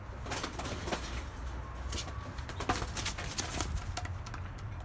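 Perdeli tumbler pigeons coo and rustle in a busy outdoor setting, a steady murmur of birds with occasional wing flaps and clicks.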